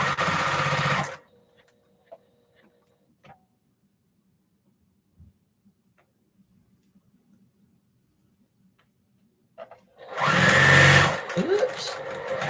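A fast sewing machine stitches fabric quilt squares in loud, steady, whirring bursts at the start and end, with near silence and a few faint clicks in between.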